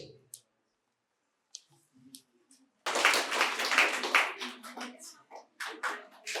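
Loud applause breaks out at a medical college quiz prize-giving in Santiniketan, a dense burst of clapping that swells after a few isolated claps and carries on for several seconds, with a voice briefly audible.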